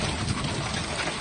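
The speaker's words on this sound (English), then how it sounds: "Rain," Rain during a powerful storm cell near Sydney, heard as a dense, even hiss of falling water that stays loud for the whole brief moment.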